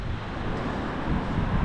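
Strong windstorm gusts rage through the Ohio Valley, a constant low roar of buffeting wind pressing against the microphone with no pause.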